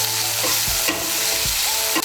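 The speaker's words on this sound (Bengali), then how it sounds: "আদা বাটাটাকে মিশিয়ে নেব, মিশিয়ে নিয়ে একটু ভেজে নেব।" Ginger paste fries in hot oil with tomato, a constant close sizzle broken by several scraping stirs of a spoon in the pan, with no voices.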